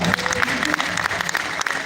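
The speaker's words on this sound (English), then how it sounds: "So clap for yourself." Audience clapping at a fish farmer congress in south-west Nigeria, a dense steady wash of many hands with some voices mixed in.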